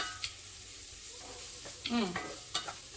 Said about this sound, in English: these are all small little garlic cloves, and just add that in here. Saute.